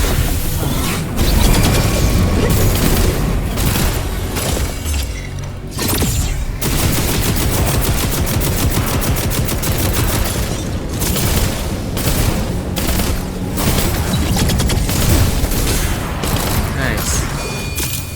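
Missiles firing and exploding in the game Wayfinder, a dense, loud, continuous barrage of blasts and rapid bursts with brief gaps, with voices talking over it.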